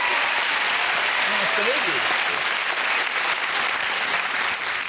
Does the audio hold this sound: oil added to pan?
no